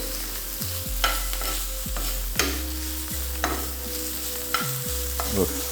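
Saltfish seasoned with black pepper fries in a pan as a utensil stirs it, with regular scraping strokes about once a second over a soft, continuous sizzle. No one speaks.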